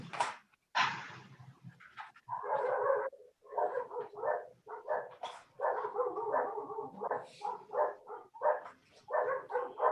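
A pet dog named Bartolo barks repeatedly and whimpers in rapid, uneven bursts, close by and loud indoors, with no talking over it.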